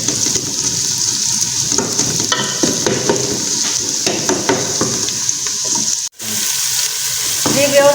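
Onions frying in oil with ginger-garlic paste for a Pakistani turnip and potato dish, giving a steady, loud, close sizzle and crackle, with stirring scrapes throughout and a very brief drop near the end.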